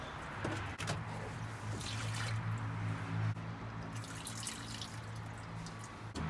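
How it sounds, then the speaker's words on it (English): Water draining from the engine block of a boat with an OMC Cobra sterndrive during winterizing, a steady close trickle and gurgle running throughout over a low hum. "look at all that water come out"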